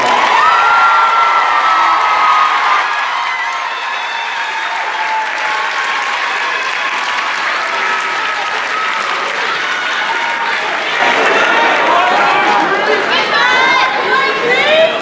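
Sustained loud applause and cheering from a high school commencement crowd as top honors graduates stand, with whoops and shouts rising above the steady clapping throughout.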